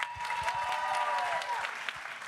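Applause from a conference panel audience greeting introduced panelists fills the room, a steady dense wash of clapping hands that holds at even loudness before easing slightly toward the end.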